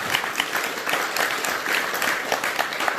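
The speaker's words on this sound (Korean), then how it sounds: "박수, 찬탄의 박수 한번" Enthusiastic applause from a sizeable crowd, many hands clapping steadily and densely for the full stretch without a pause.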